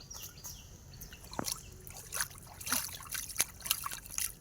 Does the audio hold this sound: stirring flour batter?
no